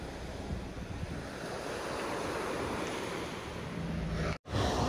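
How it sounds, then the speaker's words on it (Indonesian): Ocean waves crash and roll steadily on a north coast beach of Lombok during the west wind season, a continuous loud surf roar with wind buffeting the microphone and a brief dropout near the end. "Ombaknya begitu, padahal ini pantai utara ini."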